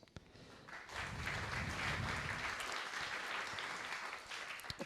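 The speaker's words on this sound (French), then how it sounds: "On lui dira que vous avez quand même applaudi." An audience claps for a few seconds at a literary prize ceremony, a dense burst of applause that swells quickly and then tapers off.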